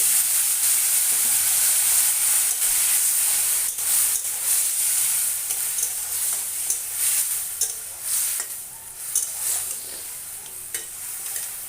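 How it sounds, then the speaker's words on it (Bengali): Spices with cumin powder frying in a pan after a splash of water, a loud bright sizzle and hiss with stirring scrapes, settling slightly quieter toward the end. "এবার মশলা কষানোর জন্য দিয়ে দেবো সামান্য পরিমাণে জল"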